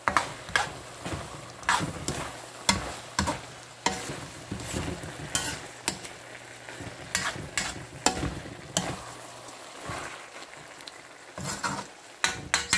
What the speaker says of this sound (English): So give a good stir.